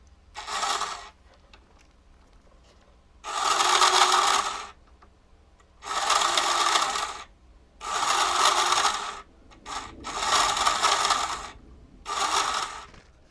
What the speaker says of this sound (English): I still haven't put any kind of grease on the gearbox. It's still loud.